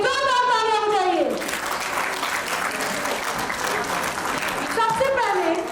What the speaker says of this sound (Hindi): उसके लिए जोरदार तालियां बजाइए।